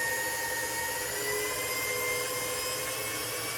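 An electric mixer whirs steadily as it beats cream cheese for a pecan cheesecake pie, a constant high motor drone with no pauses, close and fairly loud.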